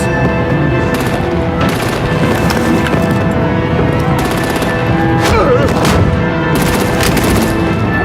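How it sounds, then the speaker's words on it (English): Dense, loud battle gunfire and artillery blasts from a Batman Telltale game fight, with continuous rattling shots and impacts over a steady din and no clear speech. "Break out the artillery and disable their vehicles!"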